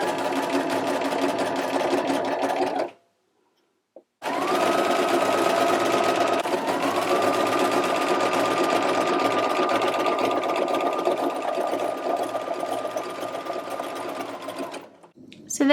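Domestic sewing machine stitches with an overlock foot, a fast steady mechanical whir that runs, stops for about a second, then resumes for a long stretch with a slight pitch shift before winding down.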